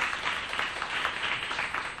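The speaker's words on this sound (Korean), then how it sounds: "다시 한번 우리 다섯 분에게 큰 박수 부탁드립니다." An audience at a youth talk concert claps together in a sustained, even burst of applause, bright and continuous.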